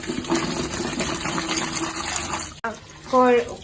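Homegrown ivy gourds, raised without fertiliser, are rinsed under a running tap, a close, steady gush of water that briefly cuts out before a voice speaks at the end.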